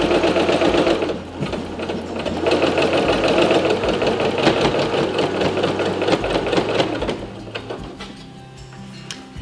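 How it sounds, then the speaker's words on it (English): A sewing machine stitches a seam on a linen tea towel in rapid, steady mechanical bursts, close and loud, with short pauses and the clatter of the mechanism. "I just continue to stitch all the way down until I've reached the end"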